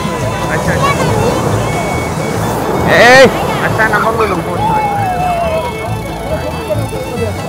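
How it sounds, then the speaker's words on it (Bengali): Big waves roll and break on the shore at Sugondha Beach in Cox's Bazar during high tide, a continuous roar of surf with wind buffeting the microphone and people talking nearby. "এখন জোয়ার, বড় বড় ঢেউ আসছে, এখানে প্রচুর ঢেউ"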